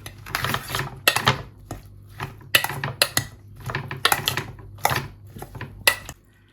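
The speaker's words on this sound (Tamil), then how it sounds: "தேசிக்காப்புளி இப்போ பிரட்டி விடுவோம்" Bitter gourd salad being tossed with lime juice in a bowl, a series of sharp clattering knocks and scrapes of a utensil against the bowl in irregular bursts, close and clear.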